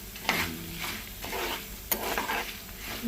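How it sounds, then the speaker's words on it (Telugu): Bitter gourd (kakarakaya) fries in a pan amid an ongoing sizzle, with repeated scraping stirs and light clinks of a utensil against the pan at a relaxed, uneven rhythm. "మనం ఇలా ఫ్రై చేసుకుంటూనే ఉండాలి"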